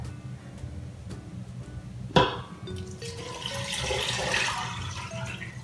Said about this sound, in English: And now, just need to pour in all the water.